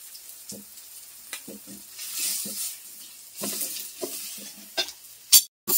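Turmeric, cumin powder and Kashmiri chili powder sizzle in hot oil for moong dal khichuri, with soft intermittent frying crackle and spoon-stirring scrapes close by, ending in a brief clatter.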